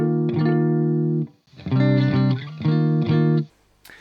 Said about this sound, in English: because without the yellow comp and without the GE7 it sounds like this.